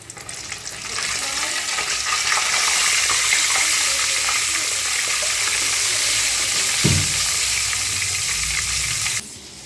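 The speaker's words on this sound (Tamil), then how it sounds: "நம்ம KFC சிக்கன் எப்போவுமே லோ ஃப்ளேமில் வச்சு தான் ஃப்ரை பண்ணணும்." KFC-style chicken frying in oil over a low flame, a steady dense bubbling sizzle running for several seconds with a single dull knock partway, then cutting off abruptly.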